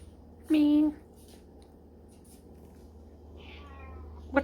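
A house cat gives one clear close meow, then a softer, fainter meow a few seconds later, over a low steady hum with someone speaking nearby.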